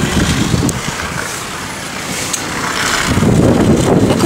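Cars and trucks moving on a snowy hillside road in Genoa, a continuous low engine rumble that swells louder toward the end as a vehicle draws nearer, mixed with wind.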